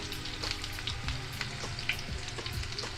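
Whole garam masala spices for a chicken korma (cardamom, cinnamon, cloves, peppercorns, bay leaf, mace) sizzling in hot oil with onion, a steady close crackle broken by light stirring knocks.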